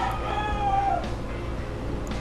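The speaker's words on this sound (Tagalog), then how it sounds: "Sa lahat ng vlogs ko, lagi may manok. Manok ng kapitbahay." A neighbour's rooster crows once with a long, wavering call over a steady low background hum, fairly close and clear.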